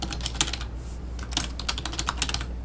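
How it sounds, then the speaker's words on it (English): Fingers type a username on a computer keyboard, a steady run of close, crisp key clicks with small pauses, alone without voices. "you'll type their username in here"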